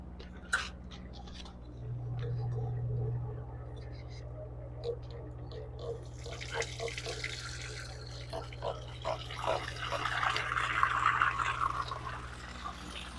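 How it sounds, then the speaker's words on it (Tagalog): Water drains out of a biofloc tilapia tank, a steady close gush and trickle that builds and thickens toward the end, with someone speaking quietly over it at the start. "So ngayon, ididrain ko at ubusin ko ang tubig na nandyan sa loob."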